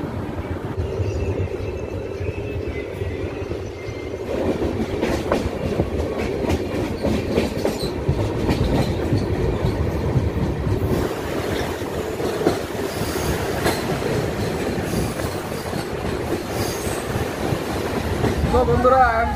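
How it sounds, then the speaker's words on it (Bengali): The Howrah–Malda Intercity Express (13011) runs on rails after leaving Pakur, with a continuous close rumble and rhythmic clickety-clack that swells louder toward the end. "চলুন বন্ধুরা, ট্রেন আমাদের বেরিয়ে গেল পাকুড় থেকে"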